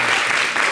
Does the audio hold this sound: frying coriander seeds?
no